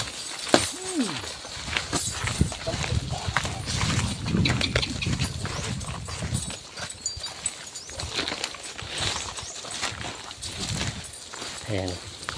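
Horses hauling heavy coconut loads of over 200 kilos in Tayabas, hooves clopping irregularly on the trail amid rustling, knocking load noise and someone talking throughout.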